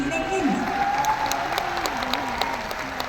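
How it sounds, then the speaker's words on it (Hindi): A crowd applauds steadily, clapping blending into a dense patter, while a voice carries on talking over it. "अब तालियां बजेगी"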